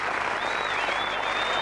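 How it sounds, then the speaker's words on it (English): Steady, dense applause from the Irish team and a large crowd of over 5,000 at a 1991 Ireland v West Indies one-day cricket match, greeting a West Indies opener's century, with a commentator's voice faintly underneath. "Generous applause from the Irish team as well as the crowd."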